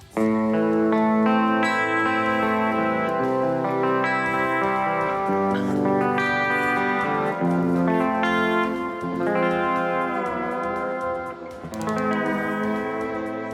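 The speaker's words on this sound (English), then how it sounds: "clean bridge pickup sounds like that" A Harley Benton electric guitar on its clean bridge pickup plays sustained, ringing chords and notes with a bright, bell-like tone, continuous and fairly loud.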